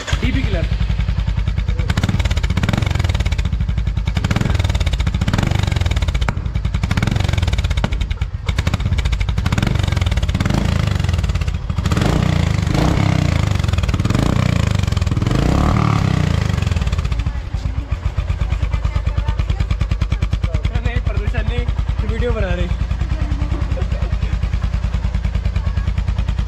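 A Royal Enfield Classic Reborn motorcycle fitted with a loud megaphone silencer exhaust and a dB killer idles with a steady thump, then revs in repeated short bursts close to the microphone before settling back to idle.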